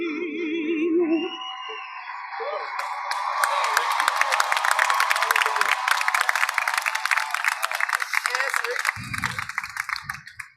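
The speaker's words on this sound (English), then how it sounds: "Let's give them a round of applause for that fantastic performance." Audience applause and cheering at a university spring commencement ceremony, a dense wash of clapping with whoops building after a few seconds and holding steady, with talk over it at the start and a voice near the end.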